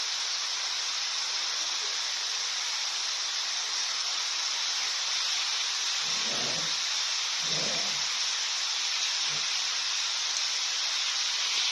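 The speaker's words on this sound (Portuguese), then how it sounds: "Chuva intensa." Heavy storm rain pours down in Tianguá, Ceará, a dense, constant hiss of rainfall filling the scene, with a few faint low rumbles passing midway.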